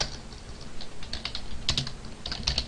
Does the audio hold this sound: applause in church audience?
no